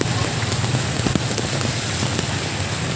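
Heavy rain pours down hard and constant during a stormy food delivery ride, a dense unbroken roar with scattered droplet patter throughout.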